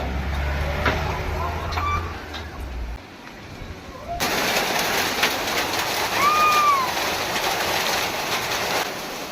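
Rain falls at a resort in Sajek Valley as a steady broad hiss, joined after a short gap by a louder, denser downpour, with a faint whistle-like tone and a voice speaking underneath.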